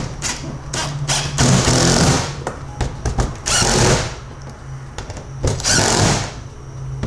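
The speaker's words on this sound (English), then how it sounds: "so now we're just going to run the screws in snug" A power driver runs screws snug to mount a rear hatch on a 2019 Hobie Outback kayak, giving several loud, close bursts of whirring that start and stop with short gaps between them.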